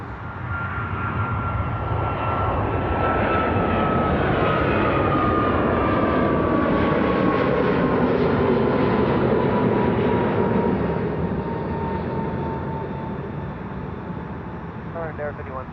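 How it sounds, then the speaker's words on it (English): Aer Lingus airliner departing Toronto Pearson airport, its jet engines roaring in a loud sustained rumble that swells and then slowly fades as it climbs away. "Aer Lingus departing."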